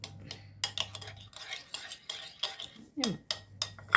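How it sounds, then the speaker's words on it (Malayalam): Spoon stirring curd and salt in a bowl, repeated close clinks and scrapes in an irregular rhythm, with a faint low hum in the background. "നന്നായിട്ടൊന്ന് നല്ലോണം മിക്സ് ചെയ്യുന്നുണ്ട്"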